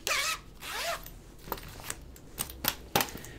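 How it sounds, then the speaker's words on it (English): An old-style metal zipper pull is worked on a sewing notions case, with two longer rasping zips followed by several short, sharp clicks and tugs, close and clear, with no talking. "Look at this old style zipper pull,"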